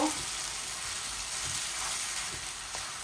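Marinated chicken sizzles steadily in a little oil in a pan while being stirred, a constant frying hiss with soft scraping taps underneath.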